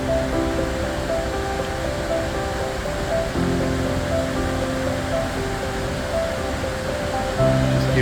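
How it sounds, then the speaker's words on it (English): Huge waterfall in the Philippines roaring as a steady, dense wash of broadband noise, loud and continuous throughout with no pauses or talk. "What an awesome waterfall. That is huge."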